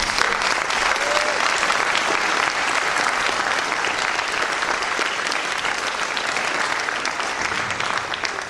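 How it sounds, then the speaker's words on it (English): Steady audience applause for the candidates at a 2018 Dublin candidate forum, sustained and even-level crowd clapping from start to finish with no voices on top. "audience, will you please give a round of applause?"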